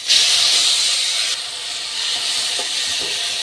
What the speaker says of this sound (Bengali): ভালো করে ভেজে নিচ্ছি কালো জিরাটা